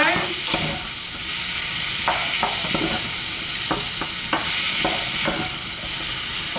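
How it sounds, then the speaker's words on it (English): Beef sizzles steadily as it fries in a pot for a chocolate beef stew, with a loud continuous hiss broken by repeated scraping and clinking stirs. "I'm just going to fry this round in the pot like so"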